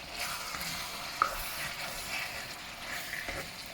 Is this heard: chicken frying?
yes